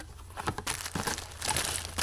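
Plastic vacuum storage bags from a 26-piece set crinkle and rustle while being unpacked, giving close, continuous crackling with several sharper crunches, alone without talk.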